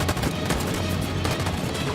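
Sustained covering gunfire from Detroit: Become Human, a dense, continuous burst of rapid shots lasting a couple of seconds, loud and up close, with no talk over it.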